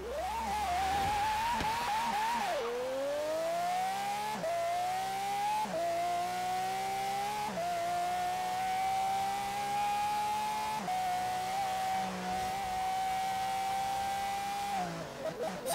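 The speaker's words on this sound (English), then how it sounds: "I was quiet there just to let you hear that engine noise" A high-revving V12 engine of a 2010 Pagani Zonda R in Forza Horizon 3 screams through repeated gear changes, each shift dropping the pitch before it climbs again, steady and loud with no talking.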